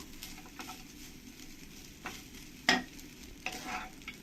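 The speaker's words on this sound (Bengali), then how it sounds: "এবার দিয়ে দেবো ধনের পাতা কুচি দিয়ে ভালো করে সব কিছুর সঙ্গে একবার মিশিয়ে নেবো" A spoon stirs chopped coriander leaves into lemon rice in a pan, giving soft scraping and a few sharper clatters against the pan over a faint background.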